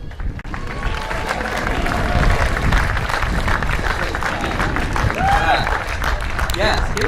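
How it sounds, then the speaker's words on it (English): Sustained applause and cheering from a large crowd at a college commencement ceremony in Alameda, steady and loud throughout, with a few voices calling out over the clapping. "give her a round of applause"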